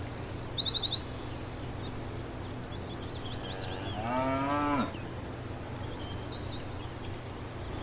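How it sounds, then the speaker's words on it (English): A cow moos once, a long rising then falling call at moderate distance on a farm, with birds chirping around it and steady outdoor background noise. "Cows give us fresh milk that we drink and use to make cheese"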